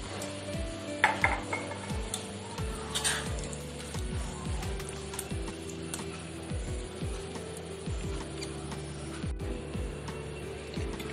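Coconut pancake batter is stirred in a bowl, with repeated scraping strokes and light clinks of utensil against the bowl in a steady rhythm, faint and close.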